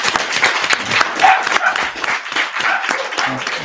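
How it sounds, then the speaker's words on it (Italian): A short burst of audience applause follows a lecture introduction, with uneven clapping from a modest crowd that rises and tapers over a few seconds. "applauso."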